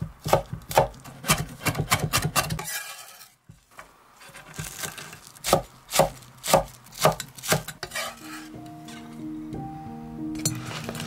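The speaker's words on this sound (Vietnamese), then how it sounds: "Băm nhỏ ra ha." A knife mincing garlic and shallots chops rapidly on a cutting board in repeated bursts of sharp taps, close by, with a brief pause partway through.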